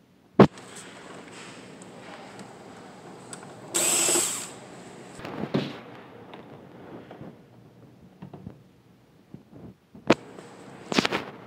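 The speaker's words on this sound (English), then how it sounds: "Unfasten the 2 screws of bottom case." A power screwdriver removes the two screws of a machine's bottom case, a short burst of high whirring amid scattered clicks and handling clatter, with another brief whir near the end.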